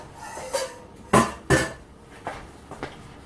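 A utensil knocks and scrapes around a bowl while melted butter is mixed into dry oat biscuit ingredients, giving a few sharp clinks and clatters with short quiet gaps between them.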